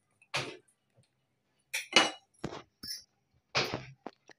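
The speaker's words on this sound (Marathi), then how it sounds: "आता मी गॅसवर कुकर ठेवते" A pressure cooker set down on a gas stove in a home kitchen, heard as a few sharp metallic clanks and clinks with short pauses between them, close and fairly loud, no talk.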